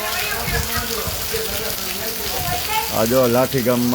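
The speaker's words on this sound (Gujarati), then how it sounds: "બહુ સારો વરસાદ પડે છે." Heavy monsoon rain pours down steadily in a village, a dense broadband hiss and patter running throughout, with someone speaking over it near the end.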